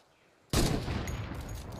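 A purple AK assault rifle in Fortnite opens fire after a short quiet moment, a sudden loud burst of rapid rounds running continuously to the end.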